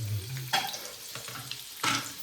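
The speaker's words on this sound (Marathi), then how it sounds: "कांदा भाजून घ्यायचा चांगला." Chopped onion fries in hot oil, a close crackling sizzle that swells in two brief bursts, as if stirred, between quieter stretches.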